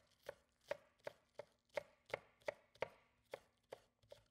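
A knife mincing green onions on a cutting board for beef fried rice gives about a dozen crisp, evenly spaced chops, close and quiet, with no talking.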